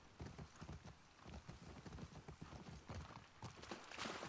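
Horse hooves clip-clopping in The Last of Us Part II, a steady, fairly quick rhythm of soft thuds, moderately close and fairly quiet, with no voices over it.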